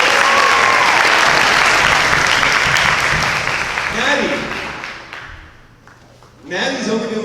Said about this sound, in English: Another round of applause for Sebastian.